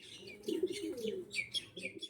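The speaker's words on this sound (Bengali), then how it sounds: "একটু ভীতু পায়রা" Pigeons offered for sale, tournament racing birds of an Andhra line, cooing in soft repeated bursts with a few higher chirps over them, fairly close and steady for about two seconds, with no voices present.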